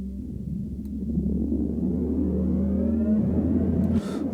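A deep synthesizer Shepard tone patch on the Arturia Pigments 3 softsynth drones with tones that seem to glide endlessly, layered over a heavy low rumble, steady and loud throughout.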